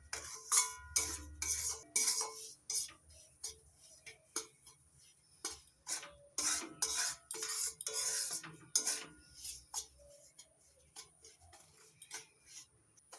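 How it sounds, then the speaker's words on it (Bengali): A spoon scrapes and clinks against a pan in an irregular, close stirring rhythm as semolina (suji) dry-roasts with no fat for upma, with no voices. "আপনারা সুজিটা খালি খোলায় ভেজে নিতে পারেন"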